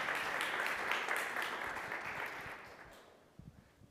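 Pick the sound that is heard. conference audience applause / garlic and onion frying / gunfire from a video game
conference audience applause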